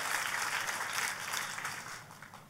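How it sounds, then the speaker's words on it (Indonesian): Church congregation applauding after a sermon, a steady wash of clapping from many hands that fades toward the end, heard from a distance with no talking. "Boleh sekali lagi kasih tepuk tangan yang paling meriah."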